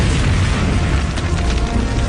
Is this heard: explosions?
yes